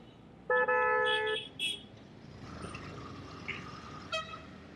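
Car horns honk in a dense traffic jam near Uran Phata, Nerul in Mumbai: one sustained blast followed by a second shorter honk, over a steady rumble of engines and street noise.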